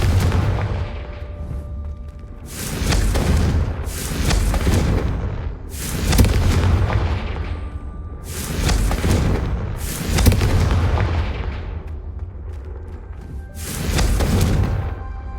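Repeated blasting-spell explosions in a Hogwarts Legacy game, about six broad booming bursts spaced a couple of seconds apart, loud and close, with a low rumbling bed and no talk.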